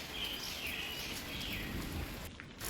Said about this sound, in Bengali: এখন মনে হচ্ছে বৃষ্টিটা আবার বেড়েছে